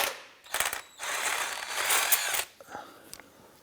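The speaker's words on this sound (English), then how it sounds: "let's go ahead and remove the crank bolt." A ratchet loosening the crank bolt on a 2001-2005 Honda Civic, with bursts of rapid clicking and a steady whirring ratchet run, close and loud, ending in a few lighter mechanical taps.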